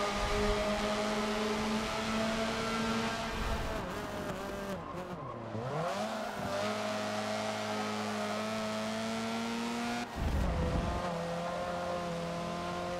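Hot hatchback engines race in Forza Motorsport 7, a loud, sustained close engine whine that rises and dips through gear changes, with tire squeals and skids and a sharp drop and surge near the end.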